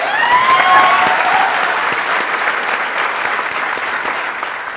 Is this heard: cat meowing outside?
no